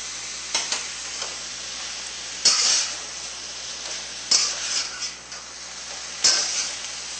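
Shrimp with bok choy and vegetables are stir-fried in a pan, a low steady sizzle broken by four sharp scraping tosses of the spatula at regular intervals, close and fairly quiet with no talking.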